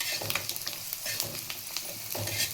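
Cut beans sizzling in hot oil in a pan while vegetable avalakki is prepared, with steady frying crackle and repeated scraping stirs, close and continuous with no talk.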